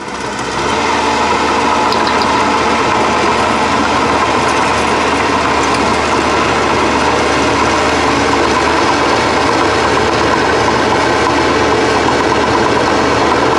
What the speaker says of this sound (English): excavating in a building with power pack outside and now using its digging arm to move around